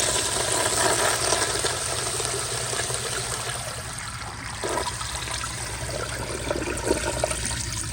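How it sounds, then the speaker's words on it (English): A Universal Rundle Colby urinal flushes with the water pressure turned up slightly, giving a steady, close rushing and hissing of water that runs throughout without pause. "here's another flush with the pressure turned back up a little bit"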